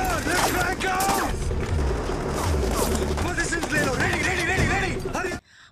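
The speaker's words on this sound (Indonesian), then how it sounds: "Baku tembak pun terjadi" Rapid bursts of gunfire crackle and pop amid a busy, loud military battle mix in a film, with shouting voices and rumbling booms layered over it.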